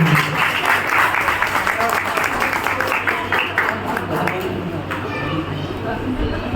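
A Hindi poetry gathering in Nangli welcomes a poet with dense, lively clapping from the crowd, loud and sustained before easing off slightly toward the end, with a hint of voices beneath.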